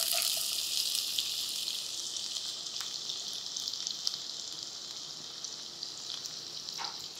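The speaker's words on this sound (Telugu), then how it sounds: "ఉల్లిపాయని కాస్త రంగు మారే వరకు కూడా వేయించుకోవాలి." Finely chopped onions sizzle steadily in hot oil in a pan for brinjal masala curry, a dense, continuous hiss close by with a couple of brief clicks and no talking.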